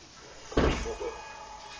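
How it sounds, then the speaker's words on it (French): An interior door closes with one muffled thud in the next room, heard somewhat distant beneath a steady background hum, followed by a faint rattle as it settles. "Si vous entendez une porte fermée, c'est juste ma mère qui était juste à côté."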